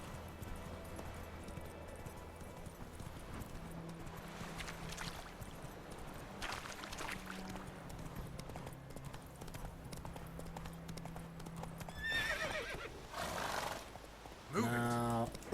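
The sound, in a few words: horse galloping in the video game The Witcher 3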